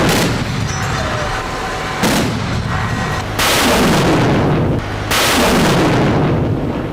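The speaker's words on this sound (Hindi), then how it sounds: "बारूद उगलता हवा में टारगेट को खत्म करता यह रूस का Panjshir air defence missile system है।" A Russian Pantsir air defense missile system fires, with several heavy booming launch blasts each followed by a sustained rushing roar, very loud and close, and no speech.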